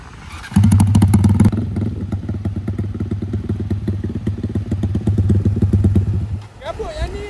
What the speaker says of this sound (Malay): Motor ni start tu lah.